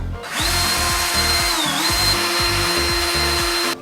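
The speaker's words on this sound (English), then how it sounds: "I'm gonna take these and drill from the top." A power drill whines steadily for several seconds, driving down into wood from the top, its pitch dipping briefly mid-run as it bites in, with low rhythmic rattling underneath.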